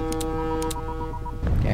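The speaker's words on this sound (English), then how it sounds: "Honk your horn, helicopter." Helicopter horn honking in the video game Atom Zombie Smasher, a run of short repeated tonal toots over a steady game hum, ending in a burst of louder noise.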